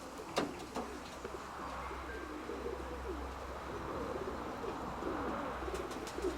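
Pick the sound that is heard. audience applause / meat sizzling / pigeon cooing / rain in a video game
pigeon cooing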